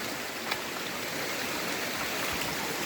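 A small waterfall on a countryside river, a steady close rush of falling water filling the whole clip without voices.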